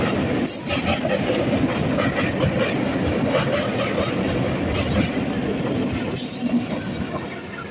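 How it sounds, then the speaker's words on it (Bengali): A local train on the Sealdah–Hasnabad line crossing a bridge, a loud continuous rumble with rhythmic clatter from the wheels, heard close by and without talking. "আর লোকাল ট্রেনটা দেখেন ব্রিজের ওপর দিয়ে যাচ্ছে"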